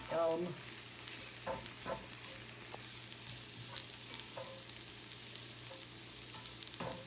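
Sliced ribeye steak and melting cheese fry in a pan for a Philly cheesesteak, a soft, steady sizzle with occasional spatula scrapes and stirs, fairly quiet and with no talk.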